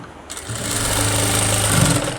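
A sewing machine starts up and runs steadily, stitching piping along a fabric edge with a close, continuous buzzing whir.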